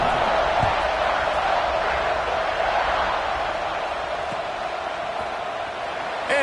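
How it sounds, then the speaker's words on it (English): Stadium crowd in a football video game, a steady loud buzzing roar of massed voices that holds evenly throughout with only small swells. "this crowd is buzzing after that last score"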